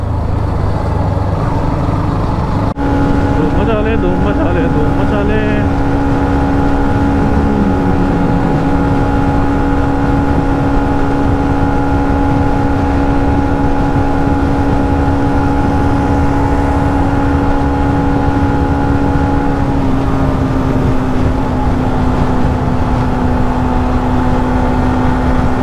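A Hero Xtreme 125R motorcycle cruises on a group Sunday ride behind a Kawasaki Ninja 650 and a Royal Enfield Interceptor, its engine a loud, steady drone mixed with constant wind rush and no talking.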